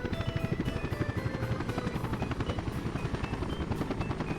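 A helicopter flies in the city-builder game Workers & Resources, its rotor chopping in a steady rapid rhythm that stays loud and continuous throughout, with no talking.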